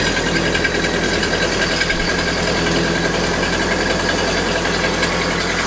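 An engine idles smoothly and steadily after its battery terminal was cleaned, giving a constant close-up rumble with no sputtering and no talking.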